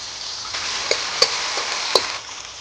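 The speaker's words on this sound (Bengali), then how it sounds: "এবার মশলাটা কষে নেব গোটা গরম মশলা দিয়ে দেবো তেলেতে টমেটো কুচি" Whole garam masala, tomato and ginger paste frying in hot oil for a vegetarian potato curry, giving a steady broadband sizzle with a few sharp spatter pops near and clear, no voices.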